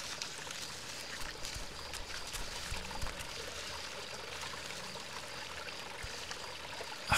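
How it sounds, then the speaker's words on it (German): A flowing water spring in the game Die Young, heard as a steady, even trickling and rushing wash that runs throughout at moderate volume, with no talk over it. "Ach, hier ist eine Wasserquelle."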